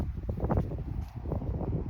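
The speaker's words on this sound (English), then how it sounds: "I am so sorry about the wind and the noise in this video." Wind blows across an outdoor fall garden, giving a steady, rough rumble with gusty low-frequency buffeting on the microphone, alone for two seconds.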